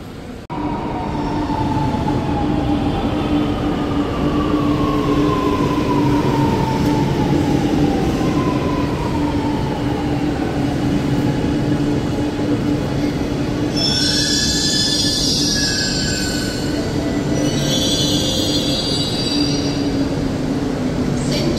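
A Chennai Metro train runs toward Central with a loud, steady rumble and rising electric whine, and sharp wheel squeals cut in briefly in the second half.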